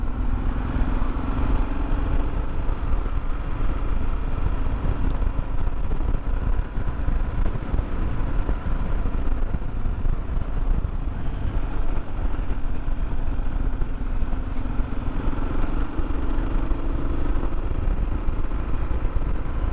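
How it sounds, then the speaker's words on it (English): A Kawasaki KLR motorcycle rides down gravel back roads, its engine a steady, unbroken drone mixed with constant wind rush at the microphone, with no talking. "just coming out and driving down back roads like this made this bike all worthwhile"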